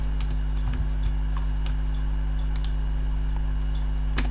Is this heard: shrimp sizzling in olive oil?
no